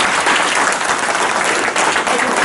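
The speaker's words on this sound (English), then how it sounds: "Let's give him a great big round of applause." Audience applause fills a room after a speaker's story, a dense, steady wash of clapping from many hands that stays loud and even throughout without a break.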